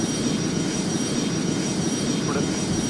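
Jet airliner on a runway during a night takeoff at Istanbul Airport, a steady, loud broadband roar with low rumble that holds evenly throughout, with no talk over it.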